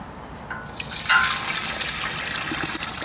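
Water pours steadily into the hopper of a 1940s Wolseley engine, starting after a quiet moment and continuing as a bright, continuous splashing gush, close and fairly loud.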